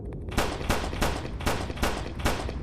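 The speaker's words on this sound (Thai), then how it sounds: "ต้องยิงที่หัวอย่างเดียวครับคุณผู้ชม" Gunfire from the mobile version of the video game Resident Evil 4 rings out in a rapid, evenly spaced series of about seven loud shots over a continuous background din.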